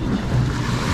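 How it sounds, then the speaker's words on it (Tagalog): Ocean waves wash against a rocky shore at Calayo, Nasugbu, Batangas, a brief steady roar of surf with wind across the microphone and no voices. "Isang alon."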